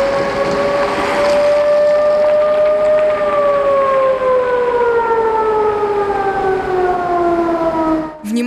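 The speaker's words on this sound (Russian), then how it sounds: "Сирены, а их в области около 500, призваны предупредить жителей в случае химической атаки или стихийного бедствия." A regional civil defense warning siren sounds its 'Attention everyone' test signal, a loud continuous wail with steady harmonic tones that slowly fall in pitch, heard alone over a faint outdoor background.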